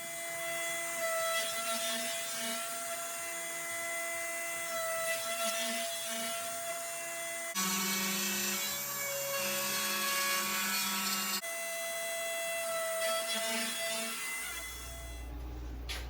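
A powered saw cuts wooden puzzle pieces, a steady whining drone with a constant pitch that shifts slightly as the blade moves through the wood, loud and close throughout with no voices.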